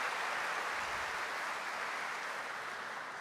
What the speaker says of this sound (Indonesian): Kita berikan tepuk tangan yang meriah kepada orang-orang muda ini.